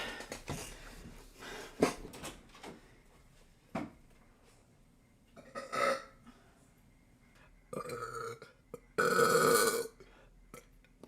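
Several loud burps from a livestreamer, with scattered smaller belches and noise early on, then two long, strong eructations near the end, the last the loudest.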